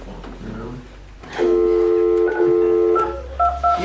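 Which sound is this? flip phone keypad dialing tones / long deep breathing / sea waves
flip phone keypad dialing tones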